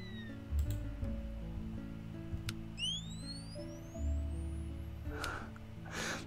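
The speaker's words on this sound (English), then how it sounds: "This is the sound of like a camera whenever the flash charges up." A rising electronic whine like a camera flash charging up sweeps upward twice in a Roblox Lumber Tycoon 2 game, rising over a low steady game hum with scattered soft clicks and brief bursts.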